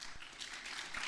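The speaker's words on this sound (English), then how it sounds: "And better clap again." Soft, distant applause from a conference audience, a faint patter of clapping running steadily for about a second.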